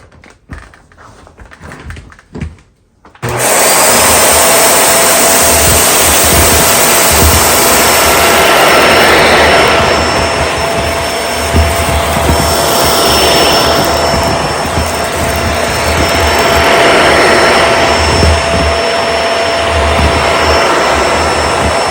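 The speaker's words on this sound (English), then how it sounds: "I'll try to get a close-up so you can see the DuoClean working on this machine." Shark DuoClean NV801 upright vacuum cleaner starts abruptly after a few seconds of faint handling noise, then runs loud and steady with a continuous roaring whine and a constant high tone, close to the listener with no speech.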